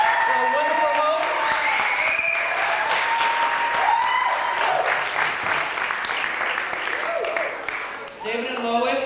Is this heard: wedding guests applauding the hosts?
yes